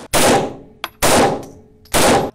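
Three loud, close gunshots from sport shooting, each a sharp blast with a long decaying tail, spaced about a second apart and heard alone without talk.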